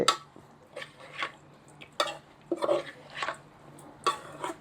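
Tilapia larb with green onion, coriander and other herbs is stirred in a bowl with a utensil, giving a series of soft scraping, clinking strokes at an uneven pace over a quiet low hum.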